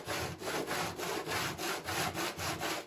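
Body filler on a Jeep Patriot being hand-sanded with sandpaper wrapped on a wooden block: steady, rhythmic back-and-forth scraping strokes, about nine of them, close and fairly loud with no voices.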